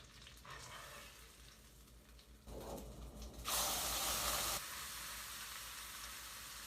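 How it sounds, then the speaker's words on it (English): A burger patty flipped with a spatula on a buttered griddle: a steady background sizzle, a scrape and clatter of the spatula, then a loud burst of frying hiss that settles back to a continuous sizzle. "we're going to give this burger patty a flip"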